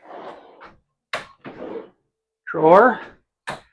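Drawers and doors of a built-in kitchen in a Brinkley Model G 3520 being opened and closed, a series of short scraping slides and knocks separated by pauses, close by, with one tonal squeak midway.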